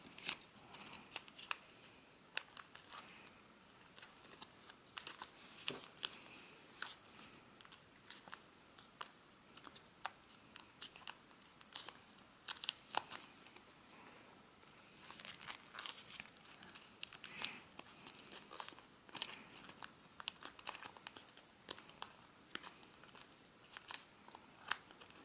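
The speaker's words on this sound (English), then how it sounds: "We're gonna open it up and flatten the fold." Origami paper folded and flattened by hand, a steady run of soft, close crinkles and sharp creasing snaps scattered across the whole stretch, with no talk over it.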